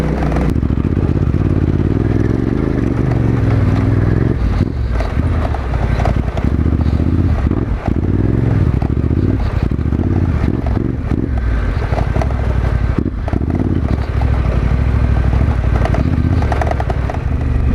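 A 2020 Yamaha Tenere 700 adventure bike ridden along a dirt canyon trail, its engine droning steadily up close with clattering from the rough ground and wind buffeting throughout.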